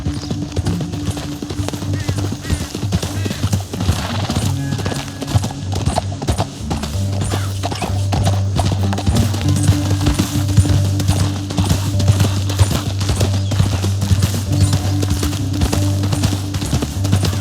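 Horses ride through a canyon in Red Dead Redemption 2, with continuous galloping hoof clops and occasional whinnies under a low rumbling score, with brief voices mixed in.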